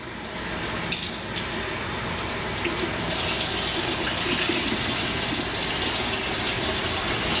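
Cold water runs steadily from a kitchen tap into a sink to dampen a dish towel, a close, continuous splashing rush that grows louder and brighter partway through as the flow increases.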